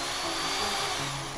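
A power drill whirs in the video game Infected: Twin Vaccine, a steady, unbroken grinding hum that lasts the whole brief moment at an even loudness.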